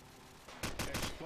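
Video game gunfire from a Counter-Strike style tournament match, a few loud rapid bursts in the second half after a quieter lead-in, close and sharp.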